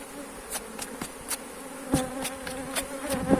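Honeybees buzz in a steady drone around a hive, with sharp clicks and knocks popping up every fraction of a second, as drone bees are cleared from the hive entrance.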